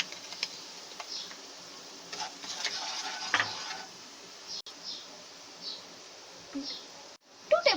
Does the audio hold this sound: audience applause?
no